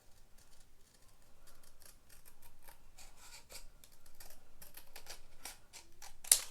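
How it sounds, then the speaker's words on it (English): Scissors snipping a paper tab off a trim card for a Diamond Press slimeline shadow box craft, a run of quick crisp close cuts and rustles with one sharp louder snip at the end. "I'm just going to get my scissors and cut the tab off."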